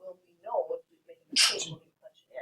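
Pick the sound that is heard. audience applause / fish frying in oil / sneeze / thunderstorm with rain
sneeze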